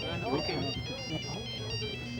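A phone ringtone repeats as a steady high electronic melody through the whole moment, with people talking over it in a room.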